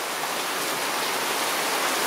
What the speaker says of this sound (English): I wonder how long this rain is going to go on for.